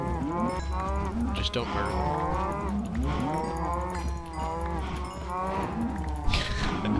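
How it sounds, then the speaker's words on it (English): A Minecraft cow farm, with repeated low mooing from several cows over steady game sounds, while a person talks over it. "Kill some cows."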